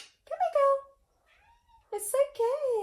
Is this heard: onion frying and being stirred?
no